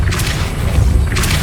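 A Depulso spell cast in the Hogwarts Legacy video game lands as a loud, booming, low-heavy burst with a whooshing brighter rush at the start and again near the end, sustained over its short length with no talk.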